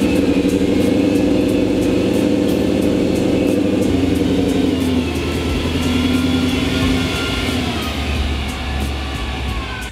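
A car engine runs steadily and loud in an indoor space, a continuous rumble with some shifting tone as the car rolls onto a tarp spread across the floor.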